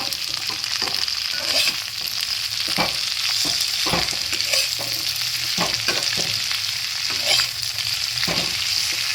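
Fenugreek leaves stirring and frying in a hot pan for a chutney, giving a steady close sizzle broken by repeated scraping and stirring strokes of a spoon, with no talking.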